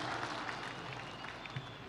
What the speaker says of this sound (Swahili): Wapi makofi ya mama Prime Minister wa kutoka Mozambique jameni